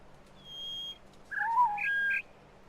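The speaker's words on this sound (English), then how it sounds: "I hear the bird. I clearly hear the bird." A bird chirps inside a PC video game: a thin whistled note, then a quick burst of bright, warbling tweets, close and clean over quiet background hum, with no talking.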